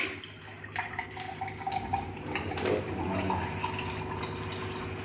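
Water running from a Japanese water ionizer machine, a soft steady trickle and splash like a tap filling a glass, fairly quiet and close with no talk.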